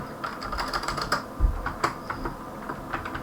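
Typing on a computer keyboard while entering router settings, a steady run of quick, close key clicks with a few heavier presses, no voices.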